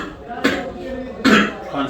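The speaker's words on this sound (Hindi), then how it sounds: "खांसी हो गई" A person coughs twice in quick succession, close and fairly loud, with a rough, throaty quality.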